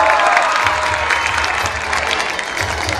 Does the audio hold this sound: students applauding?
yes